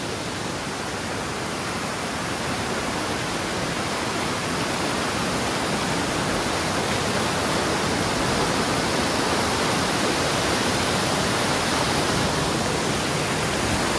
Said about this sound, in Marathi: हे सगळं पाणी असं वाहत येत आहे आणि या बाजूला जात आहे